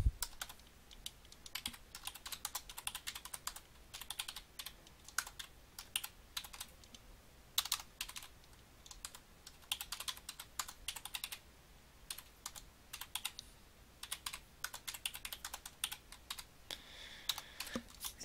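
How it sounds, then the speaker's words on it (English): Rapid keystrokes on a computer keyboard as sample data is typed into an Excel spreadsheet, a steady stream of close, crisp clicks with short pauses, no talking. "You would type the data in one by one."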